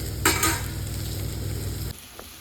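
Tomatoes fry in oil with a close, steady sizzle and a few stirring scrapes early on for egg burji, then the sizzle drops off sharply near the end.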